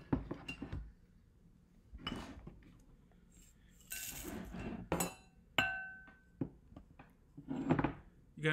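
A small child mixes cereal between two bowls, with glassy clinks and clatters of bowls and spoon coming in scattered bursts, some sharp and close, separated by quiet gaps.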